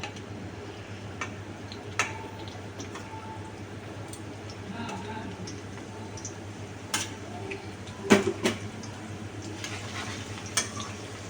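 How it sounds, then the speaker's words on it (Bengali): Chilli and garlic dropped into hot oil crackle with a continuous sizzle, light ticking pops and occasional sharp utensil taps, one louder clatter near the end, set against a low steady hum. "তেলটা মোটামুটি গরম হয়ে এসেছে, এতে আমি এক এক করে লঙ্কা আর রসুনটা দিয়ে দিচ্ছি"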